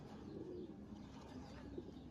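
A pigeon coos softly and steadily, faint and low, while a pet bird is held up to be shown off, with no one speaking.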